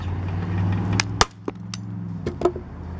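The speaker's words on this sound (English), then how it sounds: "I'm gonna see if I can get one right here, and I put in a quarter inch staple," A hand stapler drives quarter-inch staples into the plastic base of a bike seat, giving a few sharp, close snaps over a steady low hum.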